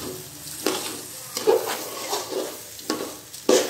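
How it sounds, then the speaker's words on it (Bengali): Kalijira rice being stirred in a pot while making pulao, a spoon scraping and scooping in repeated strokes with a light sizzle underneath, close and fairly soft. "এখন ভালো করে এপিট ওপিট করে নেড়ে নেব"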